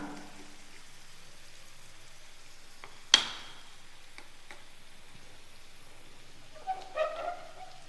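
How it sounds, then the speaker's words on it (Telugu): Onions frying in a home kitchen pan give a faint, steady sizzle, with one sharp click midway and a short burst of clatter near the end. "ఆనియన్స్ ఇవి కూడా ఇప్పుడు మంచిగా ఫ్రై అవుతాయి"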